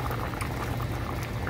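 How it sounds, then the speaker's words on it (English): Vegan soup boiling in a pot, a close, steady bubbling and popping of thick liquid, continuous and fairly quiet, with no talking. "It's boiling."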